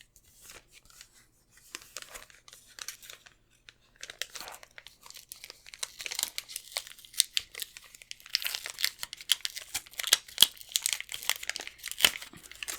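Paper crinkling and tearing from an envelope being opened during an art supplies box unboxing, starting quiet and growing into a busy run of close rustles and rips with a few sharp crackles, no talking.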